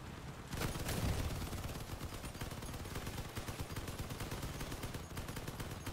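Rapid machine gun fire rattles loudly and continuously in the vehicle combat game Crossout, a dense unbroken burst that starts abruptly and carries on to the end.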